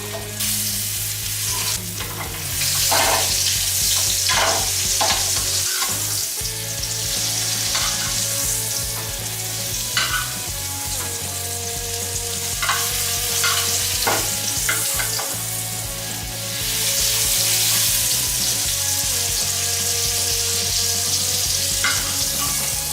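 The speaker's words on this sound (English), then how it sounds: "So when we deglaze the pan, we got a lot of flavor in that mustard caper sauce." Venison in a hot pan sizzles and fries steadily while the pan is deglazed for a mustard caper sauce, with stirring and scraping sounds over a constant loud hiss and no talking.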